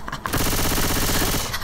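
A burst of rapid automatic gunfire from Left 4 Dead 2, loud and close, rattling evenly for over a second after a brief quieter lead-in.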